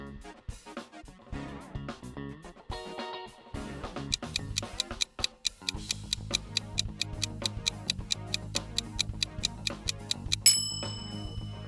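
A short Zelle payment app logo jingle: a steady ticking beat over soft musical tones, ending with a bright chiming ding.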